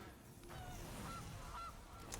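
Faint goose honks from the video game MTG Arena, a few short nasal calls over a low background hum, quiet and brief, with no speech.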